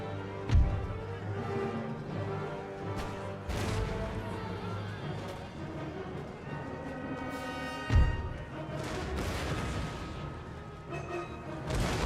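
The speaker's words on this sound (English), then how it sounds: "Cannon fire." Cannons fire in Total War: Empire, sharp booms landing at irregular intervals over a dense, continuous battle bed of orchestral music and distant combat noise.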